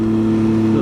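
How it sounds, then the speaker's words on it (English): A big truck rolls along Highway 74, a steady heavy engine drone, loud and close, with no talk over it. "Lots of big trucks come through here."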